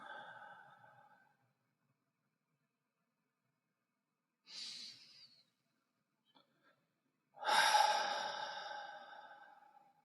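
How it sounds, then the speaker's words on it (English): Slow breaths during a closing meditation: a soft exhale at the start, a brief quiet breath midway, then a longer, stronger exhale near the end, close and isolated amid near silence. "Breathe out."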